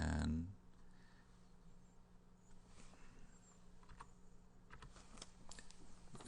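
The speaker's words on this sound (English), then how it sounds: "And just start typing 4 buttons." Typing on a computer keyboard: a sparse run of soft, faint key clicks over quiet room hum, following a brief louder sound at the start.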